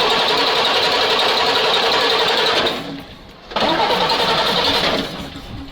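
A Praga V3S 6x6 truck engine cranks and catches, roaring loudly and close with a rough mechanical rattle, briefly dipping as it stumbles, then surging back up before fading again.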